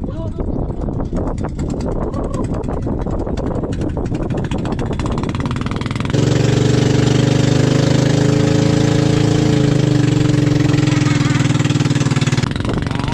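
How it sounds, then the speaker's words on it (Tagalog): A boat engine idles with a steady, low, throbbing drone that holds constant and close, after a stretch of noisy chatter and movement at the start. "At Mark, yung makina okay na?"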